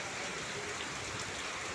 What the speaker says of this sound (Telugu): ఇప్పటికిప్పుడే వచ్చింది వాన